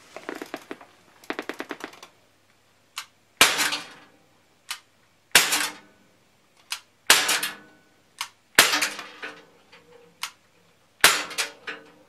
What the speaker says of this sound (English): Using a SIG P250 pellet gun.